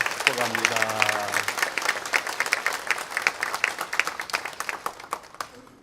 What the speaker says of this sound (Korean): 우리 따뜻하게 큰 박수하도록 하겠습니다